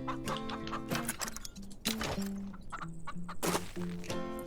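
Several chickens in the farming game Farm Together cluck in quick, overlapping bursts, with repeated short calls and a few sharp higher squawks, steady and fairly close with no talking.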